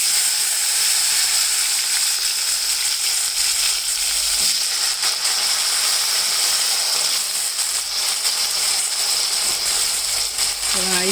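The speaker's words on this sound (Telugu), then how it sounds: "ఆయిల్ కాగినాక పసుపు వేసి వంకాయ ముక్కలు వేసేయాలి" Eggplant pieces with turmeric fry in plenty of hot oil, a bright, steady close-up sizzle with crackling and occasional stirring clatter throughout.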